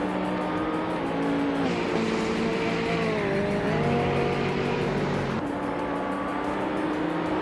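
Racing video game at the Lime Rock circuit, with loud race car engines droning steadily and overlapping. Pitches rise and fall as cars corner and pass, with no pauses.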